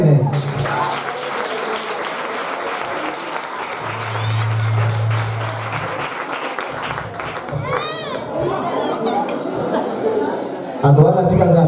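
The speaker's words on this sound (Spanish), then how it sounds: "Un aplauso para Irene." Spectators at an anniversary gala for a synchronized swimming club clap for Irene amid lively chatter and some laughter, the crowd noise sustained and busy with whistles and voices layered over the applause.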